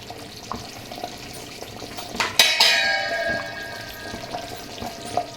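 A metal lid is set down on a cooking pot of chicken gravy, giving one sharp clang that rings out for a moment over faint kitchen clatter and a low simmer.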